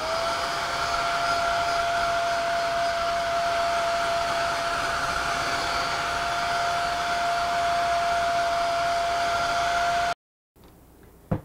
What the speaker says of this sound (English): put the hair dryer on it